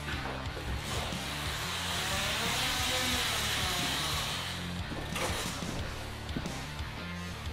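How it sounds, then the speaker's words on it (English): A Columbia automatic drywall taper, hand-advanced and then run along a wall, gives off a loud, continuous mechanical whir with a rasping, squealing edge that shifts in pitch as it moves. "We're going to run the taper on the wall after just hand advancing it"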